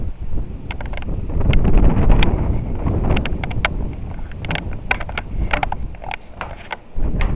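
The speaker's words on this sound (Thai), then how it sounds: "ลมแรง" Strong wind blows outdoors on a mountain, buffeting the microphone with a loud continuous rumble, while sharp rustles and crackles scatter throughout.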